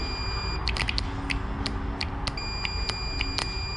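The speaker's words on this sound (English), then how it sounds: "Please bear with the beepity beeps coming out of this jumper box." A portable jumper box beeps in a parking lot, giving short high-pitched chirps in irregular clusters over a steady low background hum.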